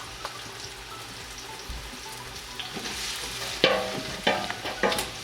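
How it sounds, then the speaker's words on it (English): Garlic and ginger simmer in a pan, a low continuous sizzle that swells near the end with several sharp stirring scrapes and clatters. "I bring on that 1 cup mixed garlic and ginger here. Let's simmer a little bit."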